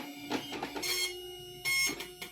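An Epson LQ-630 dot matrix printer whirs and buzzes in short mechanical bursts, with two louder high-pitched passes separated by quieter gaps, close by and without speech.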